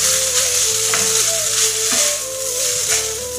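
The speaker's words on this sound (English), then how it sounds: "So when you want to give it an even stir, you have to use a fork, okay?" Millet bihun goreng sizzles in a pan while a fork stirs it over low flame, giving steady frying hiss with light scraping strokes at a close, fairly loud level.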